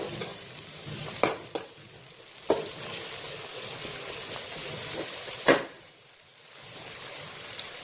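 Ground boiled tomato paste going into a hot pan of masala bhindi, a continuous close sizzle and bubbling broken by several sharp spoon clicks against the pan.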